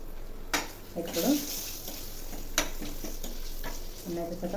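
Oil sizzles in a pan as a tempering of spices for mango-pickle rice fries, with spoon stirring and scraping and a few sharp clinks against the pan. Faint voices can be heard in the background.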